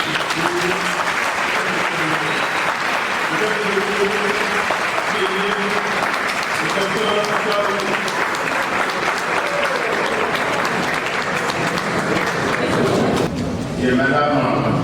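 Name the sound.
audience applause, an ovation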